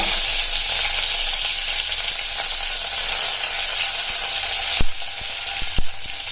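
Curry leaves dropped into hot oil with popped mustard seeds for a Kerala kadala curry give a loud, continuous close sizzle, broken near the end by a couple of sharp crackling pops.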